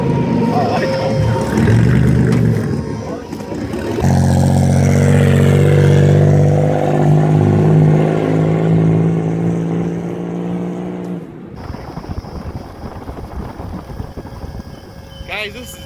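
A turbocharged Pontiac Trans Sport minivan with a V6 engine accelerates down a road, its engine loudly revving and climbing in pitch for several seconds before easing off, with a voice heard early on.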